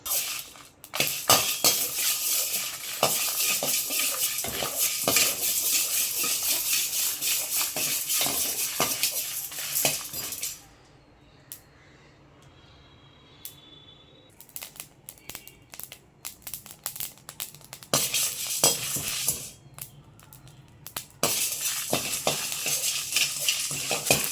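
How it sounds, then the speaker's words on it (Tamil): Fenugreek and cumin dry-roast in a kadai without oil, heard as close dry scraping and rattling of the seeds being stirred, with a quieter pause midway before the stirring picks up again. "அப்படியே கடாயில் கொட்டி வறுத்து எடுத்துக்கலாம்"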